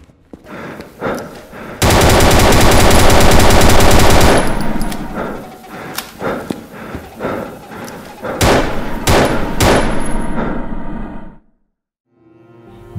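Sustained automatic gunfire from the horror video game The Fire of '98, a long loud burst followed by scattered single shots and bangs, then a sudden drop to near silence.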